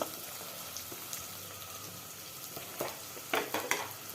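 Onion and a few curry leaves frying in a pan for a simple tomato kurma: a soft, steady sizzle at low volume, with a handful of sharper clicks and taps from the pan toward the end.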